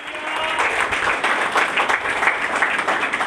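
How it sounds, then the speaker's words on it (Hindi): A church congregation at a Father's Day sermon claps loudly and continuously for a few seconds, a dense, sustained applause with a faint voice under it at the start. "खुदा पाक रूह के लिए जोरदार तालियां बजाए"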